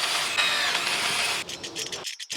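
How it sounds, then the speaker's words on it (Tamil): A power drill bores a hole for a lock pin in a metal square tube part, a loud whining grind that cuts off partway, followed by faint rattling handling. "அந்த பின்னு வந்து உள்ளார போகிற அளவுக்கு நான் ட்ரில் பண்ணிக்கிறேன்"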